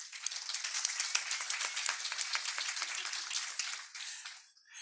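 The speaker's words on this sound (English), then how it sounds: "So a big hand of applause for Jordi." An audience claps at a closing event for a research project, a dense patter of hands filling the room for several seconds before tapering off at the end.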